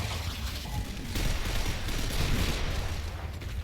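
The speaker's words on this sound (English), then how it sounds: "I see, that's the pistol." Pistol shots ring out during a Gears of War grand finals tournament match, a dense spread of gunfire and game noise running steadily over the whole stretch without any pause.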